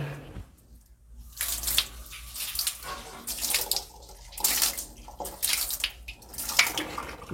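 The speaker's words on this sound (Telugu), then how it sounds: "Water wash checking." Water splashing and running over floor tiles in uneven bursts during an acid-wash cleaning, close by, with gushing surges and quieter gaps between them.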